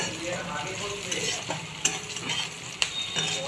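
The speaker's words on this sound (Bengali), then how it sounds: "লাল লাল করে পেঁয়াজটাকে ভাজা মোটামুটি হয়েই এসেছে" Onions fry in oil in a pan until reddish for a bhetki fish-bone chorchori, giving a steady, close sizzle with occasional sharp clicks of a spatula stirring against the pan.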